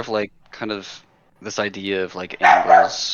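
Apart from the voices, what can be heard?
dog barking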